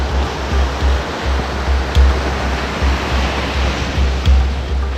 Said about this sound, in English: we all contemplated the ocean and the 20-mile beach stretching into the distance